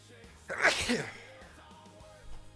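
A single sharp sneeze bursts out near the microphone, followed by quiet room noise and a faint breath.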